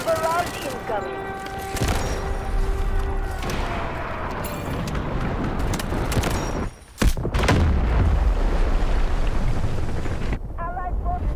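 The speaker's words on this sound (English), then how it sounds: "Roger that, artillery barrage incoming" Artillery barrage in the shooter game Delta Force: a dense, loud run of blasts and rumbling impacts with some gunfire. Voices speak over it, and the noise cuts out briefly before the barrage resumes.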